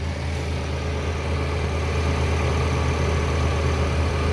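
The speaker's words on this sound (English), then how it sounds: "So we got the Endeavor running now, and the pulley is straight as it can be. It's spinning." A Mitsubishi Endeavor's engine runs steadily at idle after its idler pulley has been replaced, with a constant low rumble and an even mechanical hum close by. Nobody speaks.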